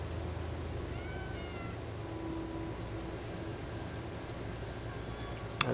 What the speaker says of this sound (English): I can meow while I drink.